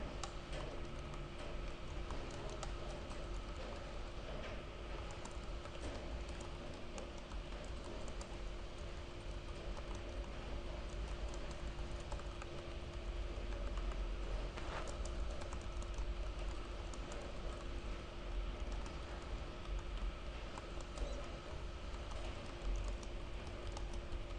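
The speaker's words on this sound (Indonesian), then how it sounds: "Saya ketikkan soalnya." Keys clatter steadily on a computer keyboard as quiz question text is entered, a continuous soft tapping over a constant hum with no talk.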